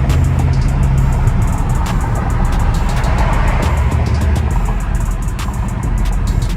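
A straight-piped Chrysler 300S Hemi V8 rumbles loud and close from inside the cabin while driving at night in Mexico, its steady deep exhaust drone continuous with no talk over it.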